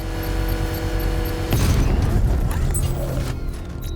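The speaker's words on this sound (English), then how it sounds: "I can use the power winch to trigger a controlled explosion" A controlled blast sets off an exposed bomb payload in Batman: Arkham Knight on Miagani Island, a loud sudden boom breaking through steady mechanical game rumble and ringing tones, then rolling debris and fading crackle.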